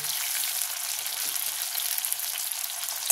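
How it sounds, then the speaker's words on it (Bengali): Baby corn fries in hot oil in a pan, giving a steady, close, bright sizzle throughout with no talking and a small clatter at the very end. "এগুলো ভেজে নেব। দেখো আমি এগুলো হালকা হালকা ভেজে নিয়েছি।"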